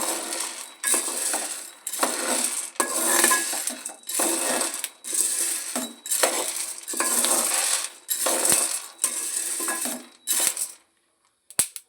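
Sathi mudda laddu ingredients roast in a pan while being stirred, producing loud, dense rattling and crackling scrapes in regular rhythmic bursts that stop abruptly near the end.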